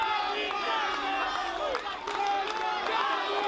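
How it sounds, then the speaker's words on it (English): Crowd at a pro wrestling show held outdoors at a street festival, cheering and chanting loudly in unison, a dense wall of many voices with rising shouts and whoops close by. "You hear the crowd."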